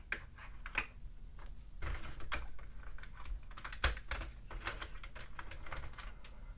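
Sentro or Addi plastic knitting machine knitting back a row: close, quiet clattering clicks and ticks in uneven bursts, like rapid keyboard typing, with a few louder knocks.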